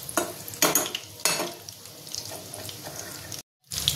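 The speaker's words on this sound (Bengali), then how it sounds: "দেখো খুব সুন্দর করে ভেজে নিয়েছি লাল লাল করে।" Homemade chicken bites frying in a pan, bursts of loud sizzling as pieces are moved and stirred, easing into a softer steady crackle before a brief silence and a return of the hiss.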